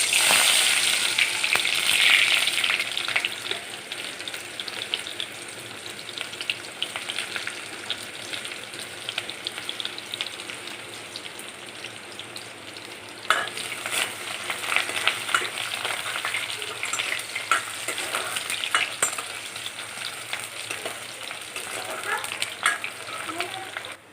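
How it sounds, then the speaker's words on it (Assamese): Chopped onion hits hot oil and sizzles loudly and steadily during a rajma curry preparation, with a stronger burst of frying and stirring partway through. "তেলখিনি ভালদৰে গৰম হোৱাত ইয়াতে দিছোঁ মই কাটি ৰখা পিঁয়াজটো।"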